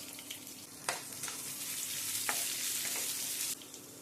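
Cloves and onions frying in a pan of oil for a country chicken curry, a steady close sizzle with a few sharp crackles and stirring bursts, no talk.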